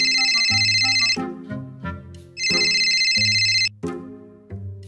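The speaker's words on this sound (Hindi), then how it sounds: "अरे फैसल का फोन आ गया" A bright electronic ringtone chimes in two bursts, separated by a low melodic musical passage, loud and close.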